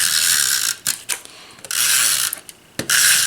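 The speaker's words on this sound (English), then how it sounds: "So I'm just going to use on this some snail adhesive." A snail adhesive tape runner rolled in several strips across the back of a card base, giving bursts of close, loud ratcheting and whirring with brief gaps between the strips, no speech.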